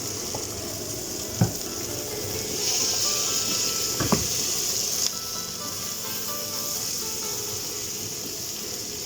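Onions, peppers and garlic frying in oil in a pan, making a steady hiss that swells partway through, with a couple of sharp utensil knocks and no talk.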